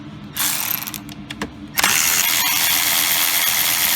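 A ratchet turns E10 inverted-star bolts on the cracked valve cover of a 2008 BMW 535i, giving a quick burst of clicking, a few separate clicks, then a sustained rapid ratcheting chatter, close and clear.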